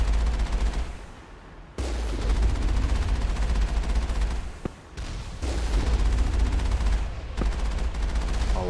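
Alliance turrets in Mass Effect fire in sustained, loud bursts of rapid gunfire that break off briefly a few times and then resume, with no talk over them.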